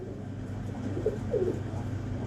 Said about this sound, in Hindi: ये मुबशर का कबूतर है